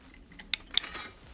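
Brass and bell-metal ladles knock together, giving two or three bright, ringing metallic clinks in quick succession over near silence.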